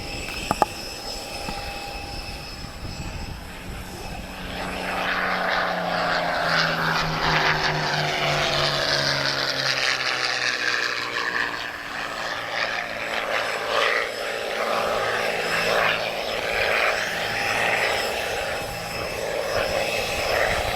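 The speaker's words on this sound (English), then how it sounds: "And that is the unmistakable sound of the Merlin engine." A Spitfire with its Packard Merlin engine flies overhead at an airshow, a rising propeller drone that swells loud and sweeps past with a pitch drop, then holds a steady roar.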